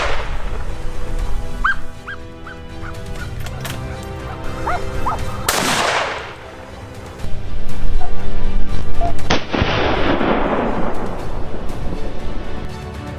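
Rifle shots ring out while hunting wild boar in Texas, with sharp loud cracks, one near the middle and another a few seconds later, over rural background with barking and birds between the blasts.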